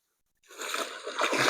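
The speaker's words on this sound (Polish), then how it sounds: "leję 6 litrów wody" Six litres of water pour and splash into a hand-mixed cement and aggregate concrete batch, starting abruptly after silence and continuing as a close, sloshing, gurgling stream.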